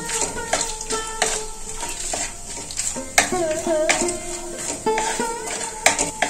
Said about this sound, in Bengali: এই কাজুটা হালকা আঁচে ভেজে নেব।